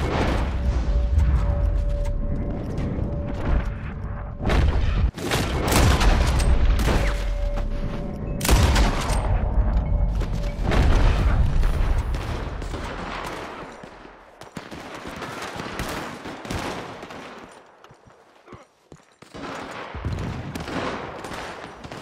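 Shotgun fire and other gunshots in the Red Dead Online video game: repeated loud, sharp blasts in an irregular volley across a busy firefight, some close and heavy, thinning out into sparser, quieter shots toward the end.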